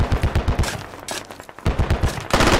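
Rapid bursts of gunfire from a close-quarters military shooter game, Australian Defence Force against Russian ground forces, crack out in quick rhythmic volleys, pausing briefly midway before loud sustained firing resumes.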